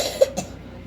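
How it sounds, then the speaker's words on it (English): A single short cough stands out clearly, followed by a quieter throat sound, then only faint room noise. "that coughing, you gotta start covering up your mouth"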